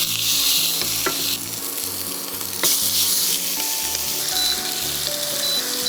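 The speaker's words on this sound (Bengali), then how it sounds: "আমরা এটা একটু সিয়ার করে নিব, চিকেনের কাঁচা যে স্মেলটা এটা না হয়" Chicken sears in an oiled frying pan with cinnamon, cardamom and cloves, a loud continuous sizzle and crackle close by, joined by a few clanks and scrapes of stirring.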